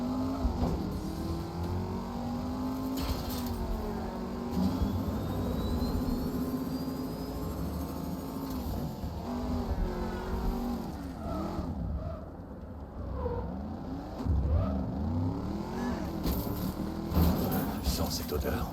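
A car driven in the LEGO Batman video game hums with a continuous engine drone and rising revs, while a voice talks over it the whole time.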